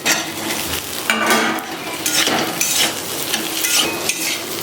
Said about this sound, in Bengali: মশলা ভালোভাবে কষানো হয়ে গেছে। ভেজে রাখা আলু পটলগুলো দিয়ে দিচ্ছি।